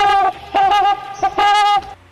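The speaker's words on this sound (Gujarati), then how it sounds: "હંસ કેવી રીતે બોલે?" Three loud, honking bird calls with harmonic tones stand alone in close succession, presented as the call of a swan.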